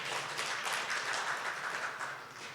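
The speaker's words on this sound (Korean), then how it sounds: "다 함께 박수 쳐주시기 바랍니다." A small audience claps together at a Bible reading workshop, a soft, even patter of hands that continues steadily for the whole stretch with no talking.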